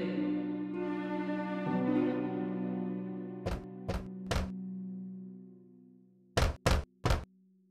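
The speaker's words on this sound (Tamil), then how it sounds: "பின்னர் குடிசைக்கு முன்னால் வந்து கதவை தட்டியது." Knocking on the wooden door of a hut in an animated Tamil folk tale, one set of three sharp raps and then a second set of three, each standing clear after a sustained musical tone fades.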